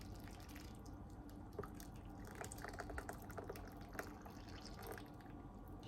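Onion-free French onion-style soup is poured over broiled toasted bread in a bowl, giving soft, faint splashing and dripping of liquid with a few clearer drips, and no talk.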